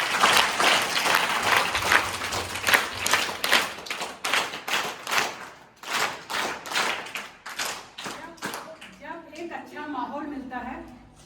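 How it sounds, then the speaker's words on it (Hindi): Audience applause at a government training school event, dense clapping from a crowd that thins into separate claps and gives way to a voice speaking near the end. "तो इसके लिए जोरदार तालियां।"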